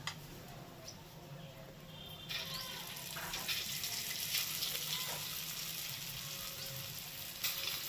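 Lentil dumplings (bori) frying in hot oil give a steady, close crackling sizzle with a faint bubbling hiss that swells slightly partway through and runs unbroken, with no voices.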